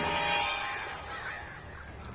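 Crows caw in the video game Alan Wake Remastered, their harsh calls blurring together over a dense, steady ambient wash that stays fairly loud throughout.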